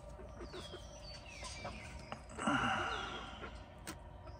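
Backyard chickens, including red hens, clucking softly at close range, with a short louder burst of fowl calls midway and a few scattered peeps and rustles around them.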